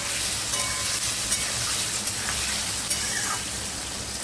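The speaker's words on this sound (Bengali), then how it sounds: "এবার আমি এটাকে লাল করে ভেজে নেব।" Taro pieces frying in oil in a pan, a dense, steady crackling sizzle heard alone with small spattering pops throughout.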